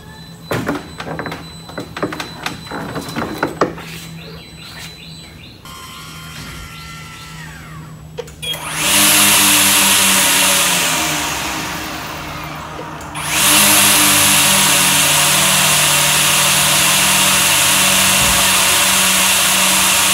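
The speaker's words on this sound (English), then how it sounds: "its trimmer arms, which are powered by high torque brushless DC motors" High-torque brushless DC motors drive robotic trimmer arms on a 22T Solar machine, first bursts of clunking and mechanical knocks, then a loud, sustained motor whine that dips and swells back to full power, with no talk.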